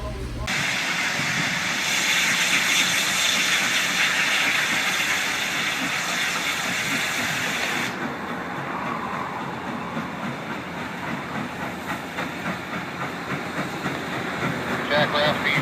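A locomotive being turned on a railroad turntable in Chattanooga, Tennessee gives a steady, loud broadband rumble with faint rhythmic clicking, and the tone shifts partway through; voices talk over it.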